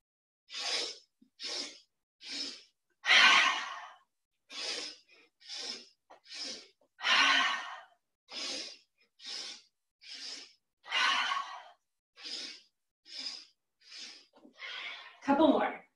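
During guided breath work, a person standing takes about sixteen sharp, forceful breaths in an even rhythm, each a short rushing burst of air with brief silences between, close and clear.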